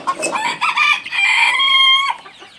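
A rooster crows up close at a poultry farm, one loud drawn-out cock-a-doodle-doo with clucking around it.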